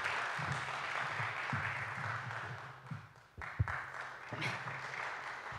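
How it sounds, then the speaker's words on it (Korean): Audience applause at a young composers' talk concert as a composer is welcomed to the stage, a steady wash of clapping from a crowd filling the room with a brief dip partway through. "여러분 박수 한번 쳐주시면 감사하겠습니다."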